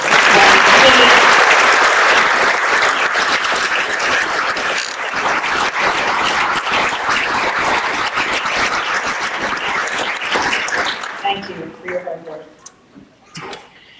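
A large audience at a Patriot Day concert breaks into loud applause, starting at full strength and slowly thinning out, with scattered claps and a voice emerging as it dies away near the end.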